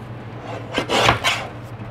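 A modified paper trimmer slicing a piece of paper, a short close scraping swipe of about half a second with a couple of light rubbing sounds around it, no talk.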